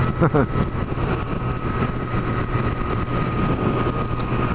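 A Triumph Street Triple 765 motorcycle engine running steadily at a low, even idle, close and moderately loud, with no voices over it.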